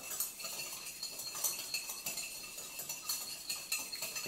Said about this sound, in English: So just give it a quick stir.